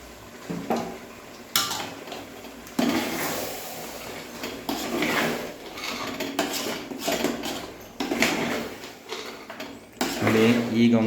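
Coconut, tomato and onion paste is stirred in a pot for mutton ghee masala, with scraping and clinking of a utensil against the metal pot in irregular bursts, while people talk throughout.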